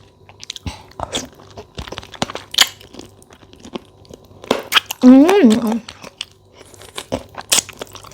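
Close, crisp biting and crunchy chewing of a spicy Lao-style chicken feet salad, with repeated bursts of mouth noise and a person speaking briefly in the middle.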